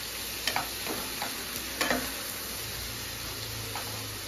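Spinach (palakura) fry with green chilies is stirred in a pan, giving a soft, continuous sizzle broken by a few quiet scrapes and taps from the spatula.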